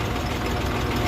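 A new tractor idles at steady low revs in a village field, its engine thrumming in a continuous broadband rumble with no pauses or speech over it.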